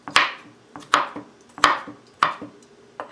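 A knife chops cucumber and onion into slices for a cucumber, celery and green apple salad: five crisp, sharp strikes on a cutting board at a steady, unhurried pace, close and clear with no talking.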